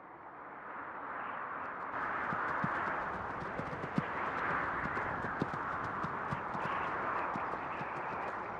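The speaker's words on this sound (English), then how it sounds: "countless caravans of mules, horses and camels laden with goods trekked along it" A caravan of mules, horses and camels walks along an old trade route on the Silk Road, scattered hoof clops in a loose, uneven rhythm over a steady wash of wind-like background noise.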